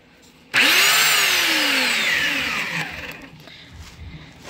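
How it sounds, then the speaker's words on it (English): A belt sander, working on a part from an old vintage microscope, suddenly starts up with a loud whirring roar that slowly winds down, sliding in pitch, with faint clatter as it fades. "the piece was getting so hot while I was belt sanding it"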